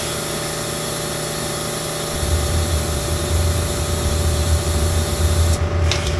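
A steady hiss of a spray gun's air hitting a Ford F150 truck frame during undercoating with WoolWax runs over a low engine drone, the rumble swelling louder midway and continuing to the end.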